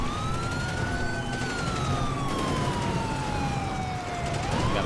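A police siren from the video game GTA 5 wails in long, slow rising and falling sweeps, loud and continuous over a steady rumble of driving noise, with no talking.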